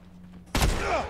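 A single sharp gunshot goes off in The Last of Us multiplayer, a loud sudden burst after near silence, followed by a short rumbling tail and a muffled voice underneath.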